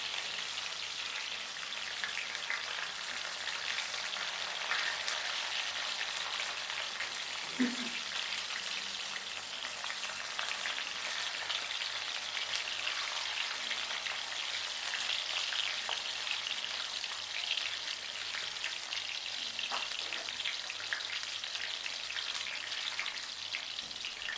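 Black corn kernels frying in a pan give a constant, hissing sizzle, with a few faint pops and light clicks scattered through it.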